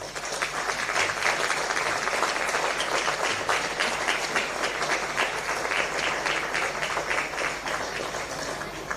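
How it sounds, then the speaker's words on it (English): A crowd applauds the teams after a ladies Gaelic football under-19 championship cup final, sustained dense clapping at an even level with no break. "can we give them all, please, a big round of applause"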